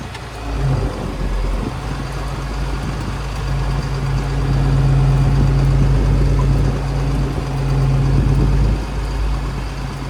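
A tractor engine idles steadily at close range, a low constant rumble with a sustained droning hum that holds unbroken throughout, with no voices.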